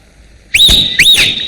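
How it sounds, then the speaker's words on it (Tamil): A man whistles two sharp rising notes in quick succession, each sliding up and holding a bright tone, loud and close with no talking. "இவன் என்னன்னா விசில் அடிக்கிறான்."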